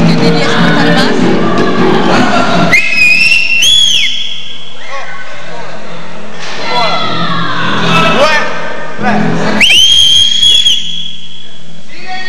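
Sharp, loud whistle blasts ring out in short bursts at a town festival amid crowd noise and shouting voices, a few piercing blows spaced across the scene.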